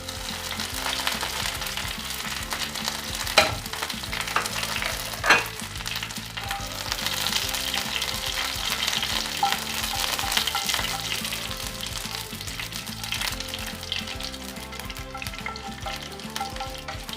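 Mustard seeds and curry leaves fry in hot coconut oil for an egg fry, giving a continuous close sizzle. Scattered sharp pops and crackles, a few louder than the rest, break through the hiss.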